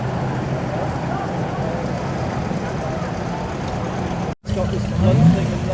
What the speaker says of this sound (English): So here the car's forming up, ready to go out on the hill.